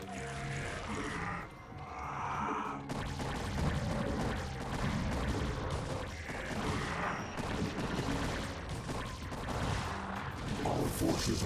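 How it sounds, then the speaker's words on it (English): Dense, continuous bursts of gunfire and booming explosions from a StarCraft: Brood War battle pile up in a busy mix, loud and relentless throughout. "I can hear all the explosions in the background."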